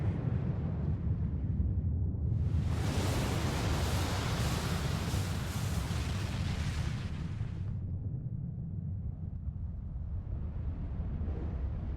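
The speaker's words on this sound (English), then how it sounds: "So, where was that explosion?" An explosion in Final Fantasy XIV rises as a broad, roaring blast that swells suddenly, holds for several seconds over a steady low rumble, then drops back to a muffled din.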